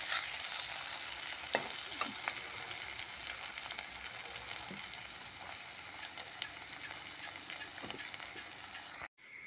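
Indian pennywort sizzles steadily in a generous amount of hot oil in a pan, a continuous close frying hiss with occasional stirring clicks, cutting off abruptly at the end.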